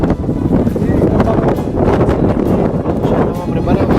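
Strong gusty wind buffets the microphone outdoors on a mountain trek, a loud continuous rumbling roar with surging gusts.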